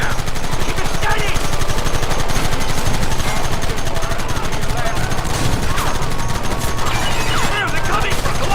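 Rapid, sustained machine gun fire from a mounted gun in Red Dead Redemption, a loud continuous rattle of bursts filling the whole stretch, with shouting voices faintly mixed in.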